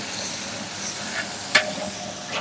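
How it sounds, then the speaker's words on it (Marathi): Pure village garlic roasts in oil for a spicy mutton kanduri, giving a steady soft sizzle with light stirring scrapes and one sharper clink, and no voices. "आता पहिले लसण भाजून घेऊ आपण."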